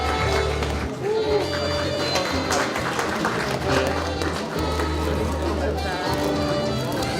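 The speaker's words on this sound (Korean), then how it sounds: "박수 드리겠습니다." An audience applauds through a table tennis association's presidential inauguration and award ceremony in Sangju: steady, dense clapping that fills the hall at an even level from start to finish, with a low hum running underneath.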